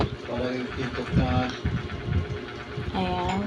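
A sewing machine runs while a potholder is stitched. Its motor hums and whirs in uneven bursts, partly under a person talking nearby.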